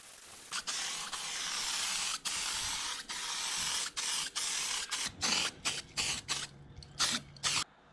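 Aerosol can of oxidizing metal primer sprayed close up onto rusty axle parts, a long steady hiss followed by a string of short bursts and pauses.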